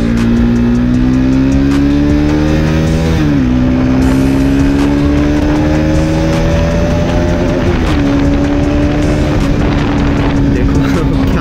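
A Bajaj Pulsar RS 200 motorcycle accelerating hard at high speed, its loud close engine note climbing steadily through gear changes under continuous wind rush.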